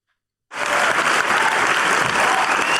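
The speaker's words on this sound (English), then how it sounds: "Let's clap for him for that one." A loud burst of applause and clapping from a podcast studio crowd, starting abruptly after a short silence and holding steady and dense.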